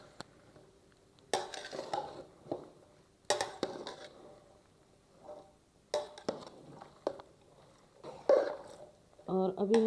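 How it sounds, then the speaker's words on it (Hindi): A spoon scrapes and clanks against a pot while chana chaat is mixed, giving irregular bursts of metallic knocks and scraping with pauses between, and someone talks over it. "इसको अच्छी तरह मिक्स करेंगे।"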